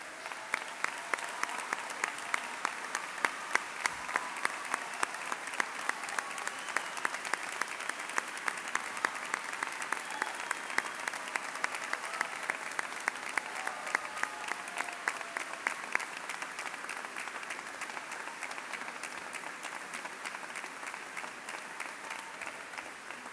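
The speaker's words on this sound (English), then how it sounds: "Please stand and provide them a round of applause." Sustained applause from a large high school graduation audience honoring military veterans and service members, dense steady clapping for over fifteen seconds before thinning slightly toward the end.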